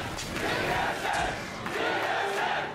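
Esports arena crowd cheering at a League of Legends NA LCS Summer 2015 match between Enemy eSports and Team SoloMid, a loud sustained roar of many voices swelling in waves.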